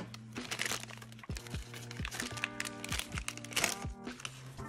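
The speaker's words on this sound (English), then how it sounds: "So let's cut this open real quick." PS Vita charger packaging is cut open close by, with crinkling plastic, sharp cracks and scattered thunks in an irregular, busy stream, and hum in the background.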